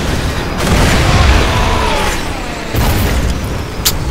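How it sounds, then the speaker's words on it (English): A grenade explosion in the Borderlands 2 video game, a loud close rumbling boom that swells and lingers, followed by a second burst and a few small pops near the end. "Have a grenade."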